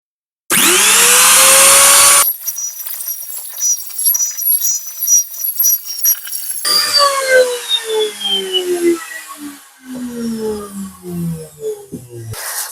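A plunge power tool spins up with a whine, then bites into wood to cut a T-track groove, the cutting noise rising and falling as the bit moves along.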